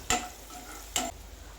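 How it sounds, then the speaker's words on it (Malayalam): Papadam fried in oil with crushed onion and chili, stirred in the pan: two short, sharp scraping strokes about a second apart over a faint, quiet background. "ഉള്ളിമുളക് മൂപ്പിച്ച് നമ്മുടെ പപ്പടം നല്ല പോലെ മൂത്ത് കഴിയുമ്പോൾ നമുക്ക് നമ്മുടെ പപ്പടം ഇതിലിട്ട് കൊടുക്കാം"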